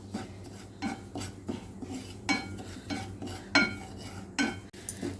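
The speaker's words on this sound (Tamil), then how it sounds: "இதை வந்து கொஞ்சம் வாசம் வர்ற வரைக்கும் நம்ம நல்லா வறுத்துக்கலாம்" Poppy seeds (kasa kasa) roasting in a pan, a spatula scraping and tapping the pan in steady, repeated strokes with light metallic clinks over a soft background hum.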